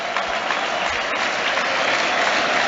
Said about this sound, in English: Applause for Kevin De Bruyne and Phil Foden.